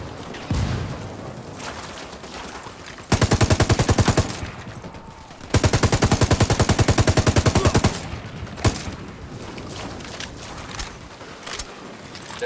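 Rapid automatic gunfire and sniper shots in the video game Ghost Recon, during a cartel attack: two loud sustained bursts of fast rhythmic fire, separated by quieter ambient battle noise, with one sharp single shot afterward.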